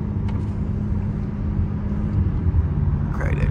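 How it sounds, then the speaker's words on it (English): A BMW M8 Competition with a twin-turbo engine cruises on a highway, giving a steady low drone of engine and road rumble from inside the car, with a brief higher whine near the end. "I wanna listen to these turbos,"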